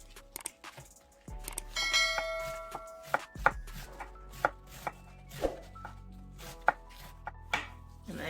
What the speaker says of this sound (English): I'm just gonna cut up this cabbage.